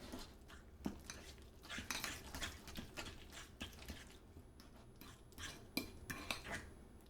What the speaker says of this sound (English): we're going to want to give that a good mix together